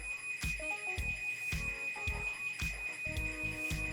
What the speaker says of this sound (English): This thing's probably gonna beep and warn you